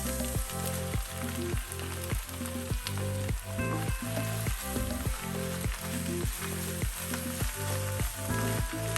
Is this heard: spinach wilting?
yes